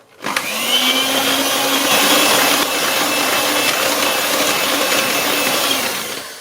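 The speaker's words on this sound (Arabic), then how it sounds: "دابا غادي نوقف هكايا الخلاط الكهربائي" An electric mixer whirs through melted chocolate and butter. It starts abruptly and holds a steady, close, loud motor whine for several seconds before fading at the end.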